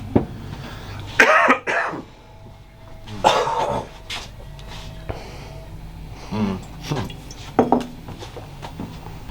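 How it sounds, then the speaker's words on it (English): A few harsh coughs and throat-clearing bursts up close, mixed with clinks and clatter of dishes and utensils in a quiet room. "I'm gonna cough."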